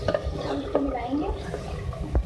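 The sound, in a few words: stirring beef karahi with yogurt in a pot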